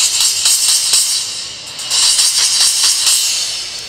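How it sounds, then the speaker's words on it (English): A Zildjian 10-inch A-Custom EFX cymbal with half-inch holes gives a white-noise effect: a bright, trashy hiss that swells, dips and swells again. "with the 10-inch, we just put the half-inch holes in to achieve that white noise special effect sound"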